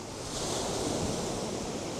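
Ocean surf washes in a steady, broad hiss, with wind blowing across the microphone throughout.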